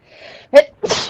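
A single sharp sneeze, close and loud, preceded by a brief inhale and followed by a short breathy exhale.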